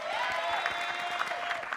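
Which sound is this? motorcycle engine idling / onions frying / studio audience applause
studio audience applause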